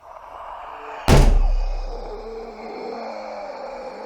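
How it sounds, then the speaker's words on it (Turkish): A door blown shut by wind from an open window slams once with a sharp, loud bang, and a low rumbling decay trails off in a quiet room. "Pencere açık herhalde ondan kapı çarptı."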